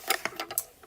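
A sewing machine fitted with a walking foot stitches a quilt binding in a quick, close burst of rapid mechanical stitches that taper off within a second.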